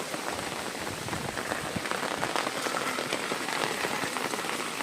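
Steady rain pours down during flooding in the Ghed area of Gujarat, a dense, continuous patter of drops on surfaces with no break, close and fairly loud, with no voices.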